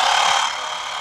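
A tiny rechargeable portable tire compressor for motorcycles runs steadily at close range, giving a continuous loud, bright whirring hum with no pauses.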